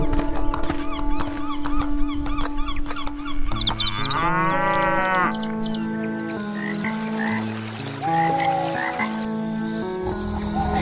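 A buffalo moos in an animated Hindi moral story, with long, loud lowing calls set against a backdrop of music and sound effects.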